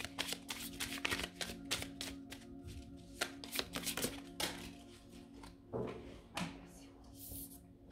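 Oracle cards are shuffled and dealt for a tarot-style reading: a run of dry papery riffles and taps comes through close up, with soft handling noises and a few quiet murmurs in between.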